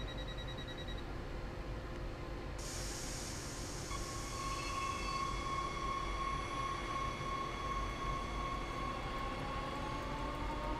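A rapid-transit train running in Train Sim World, a steady rolling rumble with a rising electric motor whine and tonal hums, at constant moderate loudness.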